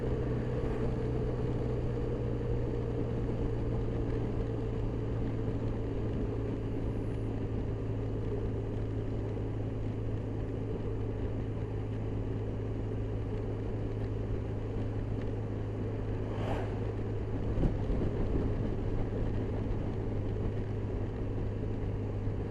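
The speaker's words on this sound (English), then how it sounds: "For those of you who don't believe that we have engine braking capability, most of this is engine braking." A scooter engine braking while slowing down produces a continuous low drone with a steady hum beneath it, lasting throughout with no pauses.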